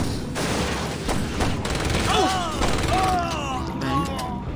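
Rapid SMG gunfire in the Saints Row video game during a warehouse fight, bursts of shots mixed with booms and whistling effects, fairly loud and continuous.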